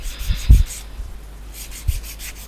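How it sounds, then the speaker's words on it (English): A nail file rubs across natural fingernails in a few short, soft scraping strokes, close and quiet, with gaps of near silence between them. "So I'm just filing down a little."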